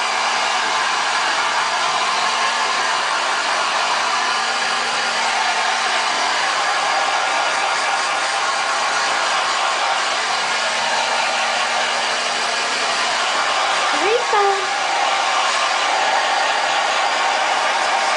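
A hair dryer blows steadily and close by for the whole stretch, a continuous, even airy roar with no talking over it.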